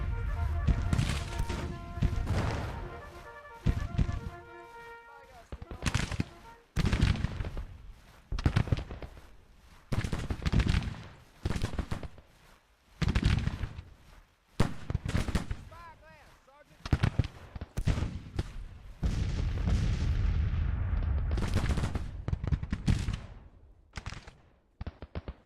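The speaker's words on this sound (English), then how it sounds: "Let's shoot at this brigade now." Brigade gunfire in the Civil War strategy game Grand Tactician: loud, ragged volleys and booming bursts arrive in irregular clusters, separated by brief lulls, over roughly twenty-five seconds.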